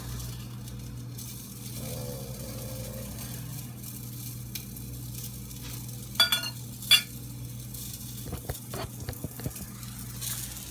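Sausage fries in a pan with a soft, steady sizzle, broken by a few sharp pops and clattering stirs near the end.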